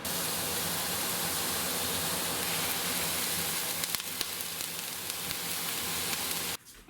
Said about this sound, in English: I'm going to start browning the meat in a cast iron pan here